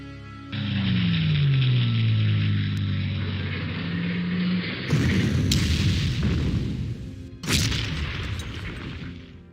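Artillery fire in the Panzer Corps strategy game: a whistling shell descends before two loud, booming detonations land a few seconds apart, each trailing off into rumble.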